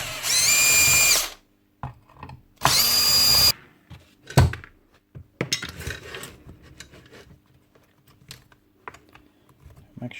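A power drill whirs in two short bursts as it backs out motor screws on a DeWalt DCS577 60 volt saw, followed by scattered clinks and handling of parts and tools.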